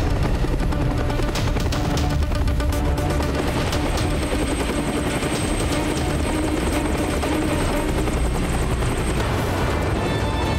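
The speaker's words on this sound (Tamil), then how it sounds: "கீழே அந்த பேலஸ் பக்கத்துல ஹெலிகாப்டரை லேண்ட் பண்ணுங்க." A helicopter comes down to land near a palace. Its loud, continuous rotor and engine roar fills the whole stretch at an even level.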